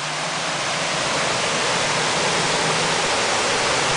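Indoor artificial waterfall at the Rainforest Cafe in Galveston, Texas, a steady loud broadband rush of falling water with no pauses and no voices.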